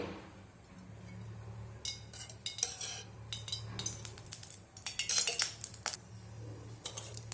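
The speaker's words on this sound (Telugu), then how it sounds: "ముందుగా స్టవ్ వెలిగించుకొని కడాయి పెట్టుకొని అందులోకి ఒక 3 టేబుల్ స్పూన్ల ఆయిల్ వేసుకుందామండి." A metal spoon clinks and scrapes repeatedly against a kadai set on a lit stove while oil is added, in bright irregular bursts over a low steady hum.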